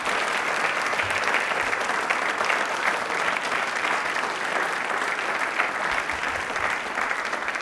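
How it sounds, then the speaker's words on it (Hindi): A television quiz show studio audience applauding a guest, steady dense clapping throughout at an even level, without speech. "तालियां दिल से ज़ोरों से बजा दी सर के लिए."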